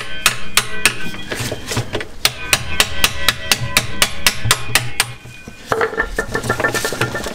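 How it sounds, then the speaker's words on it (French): A hammer strikes an impact screwdriver on a ZF 5HP19 tiptronic automatic gearbox of a Passat W8 during a fluid change: a rapid run of loud, sharp metallic clanks in steady rhythm, briefly paused, then a few more hits. "je vais prendre un tournevis à frapper et normalement ça devrait venir"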